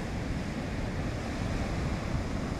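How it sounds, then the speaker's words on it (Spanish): Sea waves break and churn along the shore at A Coruña as the tide rises, a steady, dense wash of surf with some wind noise, heard alone without voices. "¿Cómo bate el mar?"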